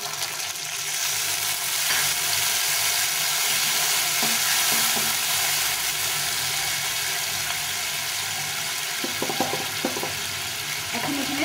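Steady, continuous sizzle of food frying in a pan on low heat in a home kitchen, close and even throughout, with a few faint utensil clinks near the end.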